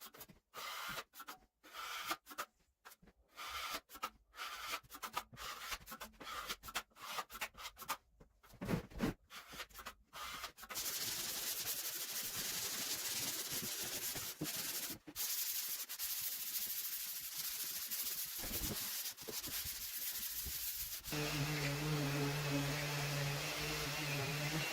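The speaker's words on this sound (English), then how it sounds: "Taping and mudding the drywall seams is a test of patience." Drywall knife pressing paper tape into wet joint compound along drywall seams: irregular close scraping strokes give way to a steady, loud rasping smear, ending with a faint low hum underneath.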